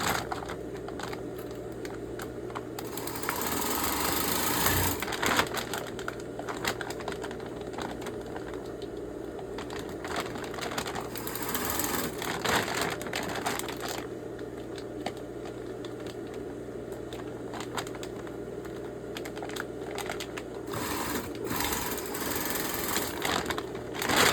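A sewing machine stitches straps onto a recycled pet food bag, a continuous fast mechanical whir and needle clatter running close and steady throughout, with slight shifts in speed and no talking.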